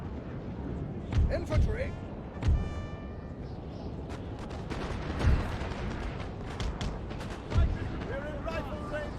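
Cannon fire in a Napoleon: Total War battle, with several deep booms spaced irregularly at varying distances beneath battlefield noise, while a voice speaks over it.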